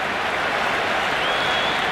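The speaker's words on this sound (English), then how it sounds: "It's the most enthusiastic crowd you could ever see right now." A large stadium crowd at an India vs England T20 cricket match roars steadily, a dense wall of cheering and applause that stays loud and unbroken throughout.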